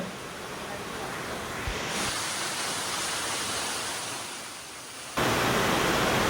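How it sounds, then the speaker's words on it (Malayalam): A waterfall roars at a cave near Cherrapunji, heard as a dense, steady broadband rush that grows louder midway and surges sharply near the end. "മുന്നോട്ട് പോയി കഴിഞ്ഞാൽ നമുക്ക് കേൾക്കാൻ കഴിയുന്ന ശബ്ദം എന്ന് പറഞ്ഞാൽ വെള്ളച്ചാട്ടത്തിൻ്റെ ഒരു ശബ്ദമാണ്"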